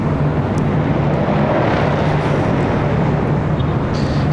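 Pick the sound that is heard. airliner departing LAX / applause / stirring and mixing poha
airliner departing LAX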